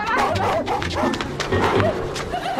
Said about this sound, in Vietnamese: Chó kìa nhá, tao chạy đâu là mày chạy theo đấy.